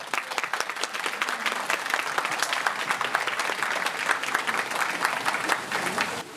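Wedding guests at a traditional Korean wedding ceremony give loud, sustained applause, a thick crowd of clapping hands that carries on evenly throughout with a little murmuring mixed in.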